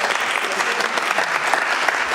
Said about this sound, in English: I thought y'all were going to clap.